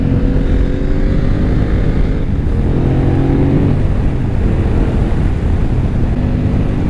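A motorcycle rides a mountain road in Serra da Estrela, Portugal, its engine holding a steady, loud drone whose pitch drifts slightly up and down, with rushing wind noise and no talk.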